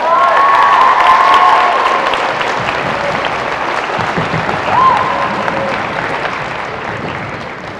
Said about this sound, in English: let's give them a hand with an applause